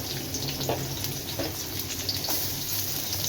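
Garlic, green chili and curry leaves sautéing in hot oil for a fish curry, a steady close hiss and crackle of frying with small popping spatters, no voices.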